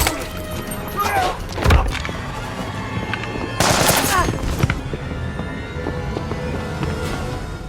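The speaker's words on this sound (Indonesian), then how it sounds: "Naas Kate terkena tembakan yang membuatnya tewas saat itu juga." Rapid gunfire crackles through a tense film scene, bursts of automatic shots and single loud cracks over a busy background of movement and effects, with some voices mixed in.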